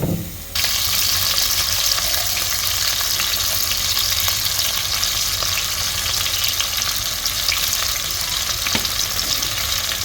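Chopped onions and slit green chilies with salt fry in soybean oil in a cooking pot, giving a loud, steady, continuous sizzle throughout with no talking.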